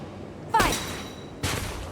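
Gunfire in the Valkyria Chronicles 4 video game: two loud, sharp bursts of shots about a second apart, each with a ringing tail, standing alone without talk.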